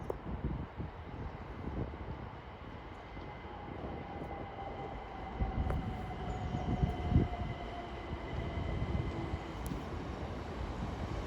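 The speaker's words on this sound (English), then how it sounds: "passing through now we're Avanti West Coast service going from London Euston to Liverpool Lime Street" An Avanti West Coast train from London Euston to Liverpool Lime Street passes through Watford Junction on the West Coast Main Line, a sustained rumbling roar with a faint whine, building and swelling mid-pass.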